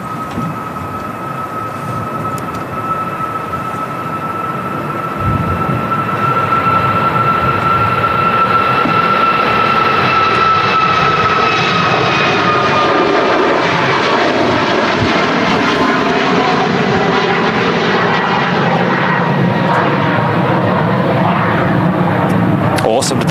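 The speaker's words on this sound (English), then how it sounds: "Here we go. Sun Express Max." SunExpress Boeing 737 MAX jet departing Manchester Airport, a high engine whine giving way to a loud, swelling roar as it powers down the runway and climbs, sustained and close for over twenty seconds.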